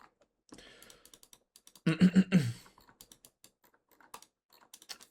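Scattered keyboard typing clicks at a computer during a gaming session, sparse taps with a denser burst of keystrokes in the middle, close and fairly quiet with no talking.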